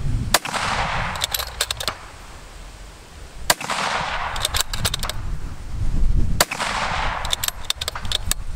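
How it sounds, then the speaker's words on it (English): Three loud, sharp rifle shots from a tripod-mounted precision rifle during PRS shooting, each a sudden crack with a long rolling echo, spaced about three seconds apart over steady outdoor background noise. "Now stay in it when the gun goes off."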